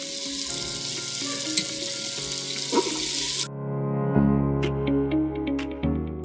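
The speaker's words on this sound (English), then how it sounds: "after a bit of deep frying" Potatoes, beans and carrot deep frying in a kitchen pan with a loud, dense sizzle that cuts off midway, followed by quieter clinks and a running-water tone.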